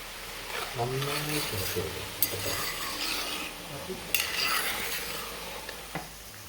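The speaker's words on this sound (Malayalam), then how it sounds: "എണ്ണയിലേക്ക് നമ്മൾ സ്പൂൺ വെച്ച് നന്നായി ഇളക്കുക" A spoon stirs homemade traditional hair oil bubbling in a pan, scraping and clinking against the metal in slow strokes with a faint sizzle underneath while a voice speaks over it.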